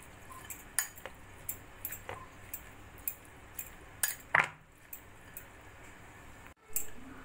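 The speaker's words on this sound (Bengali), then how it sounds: "সয়া সসটা দিয়ে ভালো করে মিশিয়ে নেব" Marinated chicken for momos is mixed with soy sauce in a bowl, giving a series of faint, sporadic clinks and soft squishes at irregular intervals, with one sharper scrape partway through.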